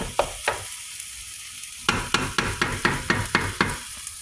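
Vegan keema crumble frying in a pan, a spoon scraping and stirring in quick repeated strokes over a steady sizzle, close and loud, with a faster run of evenly spaced scrapes in the second half.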